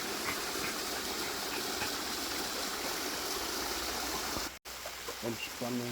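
Water of the Aischfelder waterfall near Alpirsbach pours and rushes in a steady broadband wash that fills the whole clip, with a brief dropout near the end followed by faint knocking sounds.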